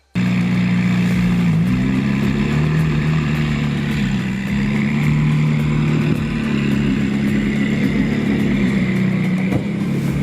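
A McLaren supercar engine drones steadily in a parking lot, loud and close. The low even rumble stays mostly constant, with a slight dip around the middle.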